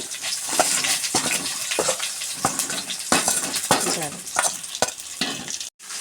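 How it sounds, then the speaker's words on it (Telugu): Dried red chillies, chana dal, urad dal and cumin fry in hot oil with curry leaves. A steady close sizzle runs under regular scraping stirs of a spoon against the pan. "ఎండు ఎండుమిరకాయలు వేసేసుకుంటున్నానండి అలాగే శనగపప్పు మినపప్పు జీలకర్ర కూడా వేసేసుకుంటున్నాను"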